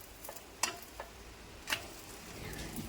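An egg-stuffed paratha fries quietly in an oiled pan with a low steady sizzle, broken by a few sharp scraping clicks of a spatula as it is flipped; no voices.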